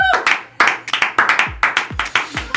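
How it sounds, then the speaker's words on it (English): A few people clap together in uneven bursts, loud and close, the strikes bunching into quick clusters with brief gaps between them. "Clap it up."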